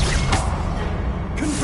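An Incendio fire spell is cast in Hogwarts Legacy, giving a short whooshing flare of noise, then a second swish near the end, over loud steady game background.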